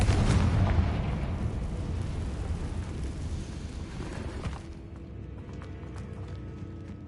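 A Confringo spell explosion in Hogwarts Legacy booms loud and close at the start, then a long rumbling decay with scattered debris clatter fades into a quieter room.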